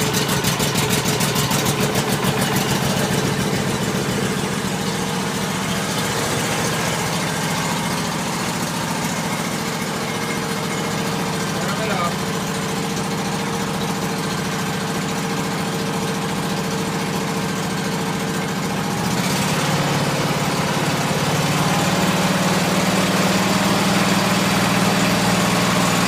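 A Cub Cadet Series 2000 lawn tractor engine idles after a cold start, a loud, close, continuous droning hum with a steady beat. Near the end of the long stretch it dips briefly and then settles to a slightly different pitch. No one speaks.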